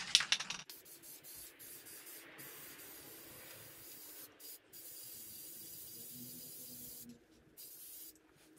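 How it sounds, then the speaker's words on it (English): Paint sprays onto a chainsaw-carved wooden tree in a steady, soft hiss that stops and starts several times in short breaks, close and fairly quiet. "we're just spraying the tree here with this paint."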